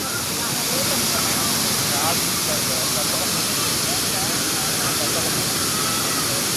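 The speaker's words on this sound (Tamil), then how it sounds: "கீழே அருவி கொட்டுறது, போட்டிங் போகிறது, அங்கே அருவி கொட்டுறது எல்லாம் நீங்கள் பார்க்கலாம்." Hogenakkal Falls pouring down over rocks, with boats on the water below: a steady, loud, broadband rush of falling water that stays constant throughout, with no pauses.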